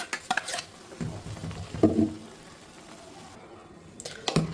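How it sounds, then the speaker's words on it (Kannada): A utensil scraping and stirring country chicken curry in a pan, with soft clinks and a faint sizzle, quiet background between strokes. "ಅದೆಲ್ಲ ಹಾಕೊಂಡು ಚೆನ್ನಾಗಿ ಮಿಕ್ಸ್ ಮಾಡ್ಕೊಂಬಿಡೋಣ"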